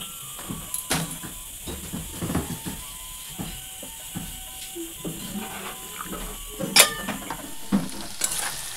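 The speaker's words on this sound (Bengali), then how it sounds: "এখানে আমি এই যে পনির ভাজা বসিয়েছি" Paneer pieces frying in a pan, with uneven sizzling, scraping stir strokes and clatter, and occasional louder bursts, up close in a home kitchen where other dishes are cooking.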